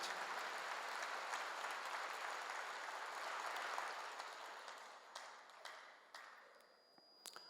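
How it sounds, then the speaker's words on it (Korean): A church congregation applauds during a sermon, steady dense clapping that fills the room for several seconds before thinning out and fading into scattered claps near the end. "지금 박수 한번 하세요"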